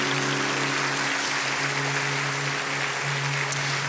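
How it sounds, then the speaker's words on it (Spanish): Worshippers at a Spanish-language church service applaud in a continuous, even roar of clapping, with steady sustained musical tones held underneath throughout. "Dale un aplauso más fuerte a nuestro Rey."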